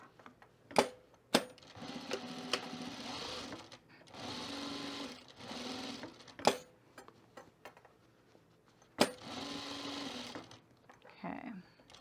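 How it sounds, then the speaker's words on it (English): Sewing machine stitching a small hedgehog toy sock in short rapid bursts separated by pauses, with sharp clicks and knocks between runs, close and fairly quiet. "So I'm just gonna sew around it."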